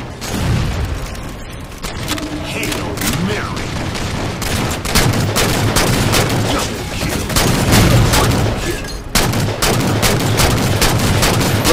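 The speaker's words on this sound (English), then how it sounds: "I hear shots, and I hear, like, two or three people shooting." Several players trading gunfire in a Halo 4 Regicide match on the Adrift map, with dense overlapping bursts and loud booming shots that rattle on continuously up close.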